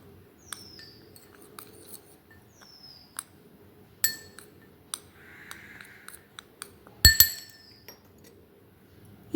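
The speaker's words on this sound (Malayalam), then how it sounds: "ഇനി നമുക്കിതെല്ലാം കൂടെ നന്നായിട്ട് മിക്സ് ചെയ്യാം." Fenugreek, asafoetida and chili powders are stirred together in a glass container, making sparse light clinks and taps against the glass, a soft scrape, and one sharper clatter near the end.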